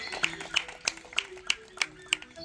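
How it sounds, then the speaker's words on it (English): A small audience claps at a bird-fishing demonstration at African Lion Safari, with about eight sparse, evenly spaced claps sounding faint and distant. "We can still give him a great big round of applause."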